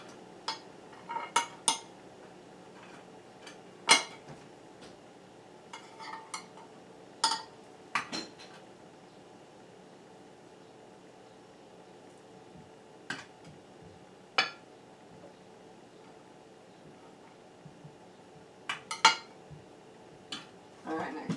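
Bananas being sliced for banana pudding in a home kitchen, heard as sparse, soft clicks and taps of a knife against a plate or board, spaced irregularly at low volume with quiet room tone between them.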